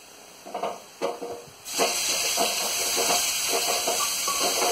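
Tomatoes dropped into a pan of lightly browned fried onions for Indian-style macaroni pasta: two soft knocks, then a sudden loud burst of hissing sizzle that holds steady and close, with faint stirring.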